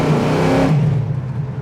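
A 600hp 1973 Dodge Challenger revs hard while driving, a deep, loud engine roar heard from inside that winds up and then eases into a steady rumble.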